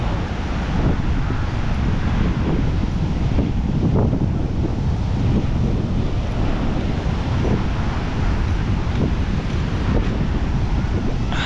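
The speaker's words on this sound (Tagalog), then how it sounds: "Tapos papakita ko sa inyo yung grabe, laki ng alon." Big ocean waves crash and roar continuously while strong wind buffets the microphone, a loud, rumbling wash with no pauses.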